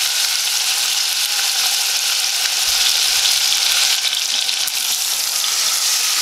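Salmon frying with garlic in a pan gives a loud, steady, close-up sizzle that hisses without a break for the whole stretch, with no voices over it.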